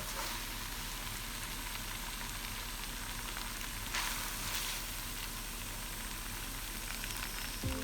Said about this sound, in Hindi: अब हमने इसे 2-3 मिनट तक इसी तरह हिलाते रहना है।